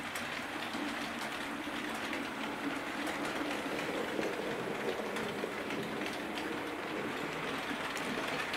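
A Hornby A4 Mallard model train pulls a string of carriages along its track, giving a steady, quiet rolling hiss and faint rhythmic clicking that runs on evenly without a break.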